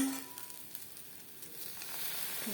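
Soaked-rice batter sizzles in a pan for chitoi pitha: a continuous, fairly soft hiss of frying that swells slightly toward the end, with no voices.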